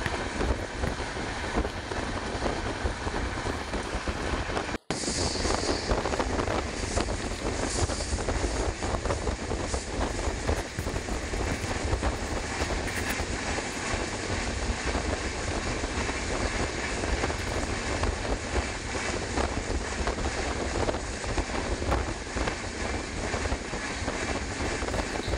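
A Jan Shatabdi Express train on the Chennai to Ongole route runs at speed, giving a loud, unbroken roar and rumble with wind noise. It continues for the whole stretch with no voices, apart from a momentary dropout near the start.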